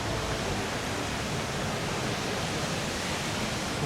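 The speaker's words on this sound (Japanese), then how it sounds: "ちょっと水の音が結構すごいですけど" Water rushes steadily over a dam at a free campsite in Kagoshima, a loud, unbroken broadband roar that fills the whole stretch with no other sounds on top.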